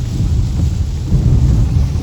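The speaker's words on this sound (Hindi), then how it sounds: "बारिश देखना भाई कितनी हो रही है, कितनी फास्ट" Heavy monsoon-style rain pours down on a highway drive near Pune, a dense, loud roar with deep thunder-like rumbling beneath it, steady throughout with no voices.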